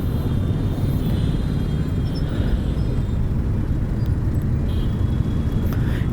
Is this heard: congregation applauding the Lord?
no